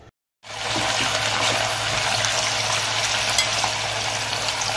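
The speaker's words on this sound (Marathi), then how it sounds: "म्हणजे अशा प्रकारे आपण अजून थोडेसे फ्राय करून घेतोय।" Paneer masala frying in a pan, with onions and tomatoes sizzling steadily in hot oil after a brief silent start, a loud continuous hiss and crackle throughout.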